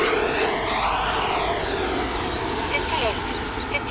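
A Freewing Avanti 80mm electric ducted-fan model jet flies overhead, a loud, steady high-pitched whine with a rushing roar that sweeps slightly in pitch as it passes, close and unbroken throughout.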